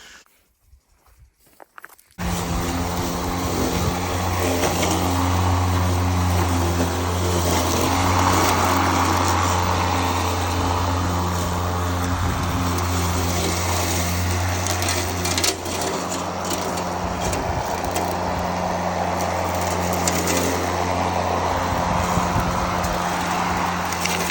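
A Mowrator remote-control lawn mower crawls over rocks in Moab, giving a steady, loud motor drone with scraping and clattering over the terrain, continuous for the whole stretch after a brief quiet start.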